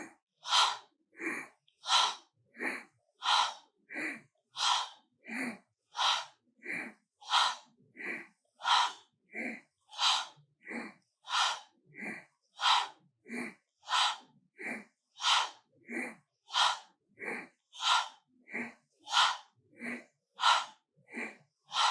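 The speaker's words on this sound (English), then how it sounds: "Pranayama breathing. Begin." Rhythmic forceful breathing from a pranayama exercise in a yoga class, about twenty-five sharp, evenly paced breaths in close succession, loud and near with no talking over them.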